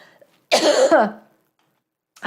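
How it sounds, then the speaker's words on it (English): A single harsh cough bursts out close to the mic, followed by silence and a brief trailing sound at the end. "I'm going to cough, so you talk."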